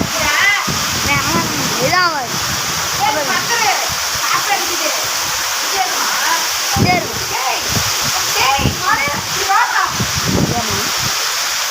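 Water splashing and spattering heavily and continuously, close by, like a strong cascade, with a voice speaking briefly over it.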